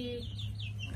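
A 20-day-old French Black Copper Marans chick gives a few thin, high peeping chirps, close by and fairly quiet over a low steady hum.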